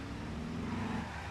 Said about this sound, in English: The V8s in it do sound great.